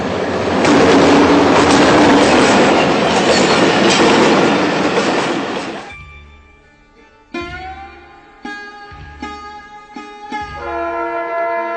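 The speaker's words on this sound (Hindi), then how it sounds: "ट्रेन आ रही है आपके घर के बिल्कुल पास से गुजरेगी" A train passes close to homes along the railway track between Landhi Junction and Keamari, a loud rushing rumble for about six seconds that quickly fades, followed by a series of sustained horn-like tones.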